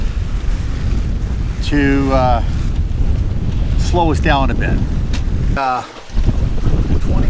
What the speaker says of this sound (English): We're spilling some wind off the mainsail here